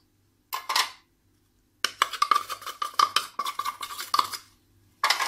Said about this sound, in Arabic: عندي دابا صفار البيض غنزيد عليه سنيده، نخلط، نزيد النشا